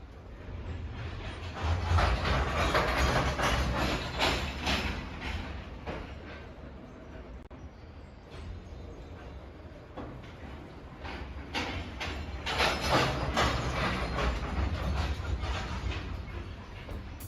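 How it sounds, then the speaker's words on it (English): A passing freight train, its cars sending a low rolling boom that swells as they approach and fades away, with sustained rumble and rail clatter throughout. "you'll hear a repeating boom that gets louder and louder and louder as it nears you"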